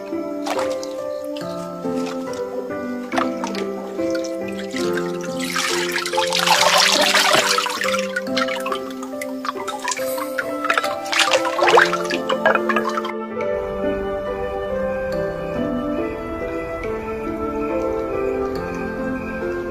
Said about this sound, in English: As the screen is lifted, water drains away, leaving behind a sheet of wet paper.